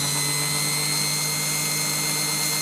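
Steady power-tool whine and grinding noise from work on a 1972 VW Beetle 1200 engine's valves, continuous and loud throughout with no voices.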